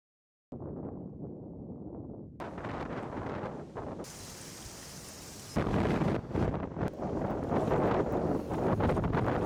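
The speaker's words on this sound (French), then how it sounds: "J'imagine que ça s'entend là, il y a beaucoup de vent." Strong outdoor wind buffets the microphone in continuous loud gusts, with rumbling roar that swells and eases throughout, near and unbroken.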